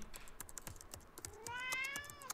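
A cat meows in a video game, a rising drawn-out call near the end, amid clicky keyboard-like taps and game sounds.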